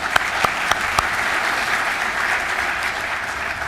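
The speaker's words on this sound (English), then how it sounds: "please give them a round of applause" An audience at the 2018 USBC bowling convention annual meeting gives a round of applause, a steady even clapping that holds for a few seconds, with a few sharp individual claps standing out near the start.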